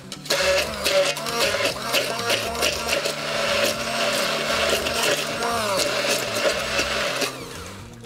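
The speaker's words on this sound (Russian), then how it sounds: "Перебиваем это слегка блендером." A blender whirs in short bursts as it chops fresh tomato and green onion in a mixing bowl, a steady, moderately loud mechanical grind alone with no talking.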